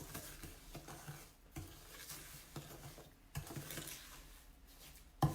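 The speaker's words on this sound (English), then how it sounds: "And now I'm just gonna mix it together." Salt, oil and lemon are stirred together into a scrub, producing soft gritty scraping and swishing strokes in a loose rhythm, close and quiet, with a sharper clink near the end.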